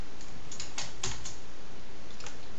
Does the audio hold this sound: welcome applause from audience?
no